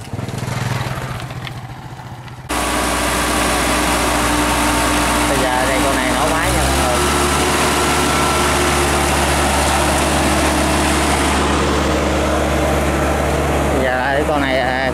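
A Japanese crawler tractor's engine starts after a brief quiet moment and then runs loud and steady nearby, its idle shifting slightly in pitch partway through.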